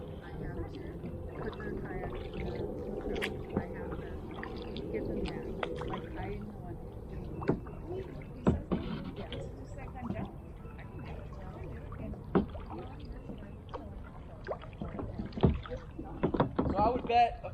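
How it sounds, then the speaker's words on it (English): Kayak paddle strokes dip and splash through a quiet Florida creek, soft irregular water sounds close by, with a person talking over much of it. "You are kayaking properly."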